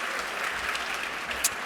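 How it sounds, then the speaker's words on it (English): Audience applauds a panel at a collective impact convening, a steady wash of clapping from a seated crowd at moderate level throughout, with no talking over it. "Just want to give them another round of applause."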